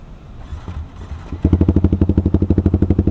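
A motorcycle fitted with a racing exhaust rumbles quietly, then breaks into a loud, rapid, rhythmic pulsing of throttle blips, close and harsh.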